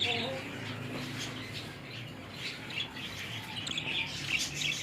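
Pet budgerigars chirp and tweet as they fly free, with a male following a female. Scattered high chirps rise over a low background murmur, and a voice talks faintly underneath.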